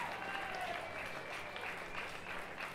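Continuous applause from a talent show crowd, many hands clapping in a steady, even roar without a break.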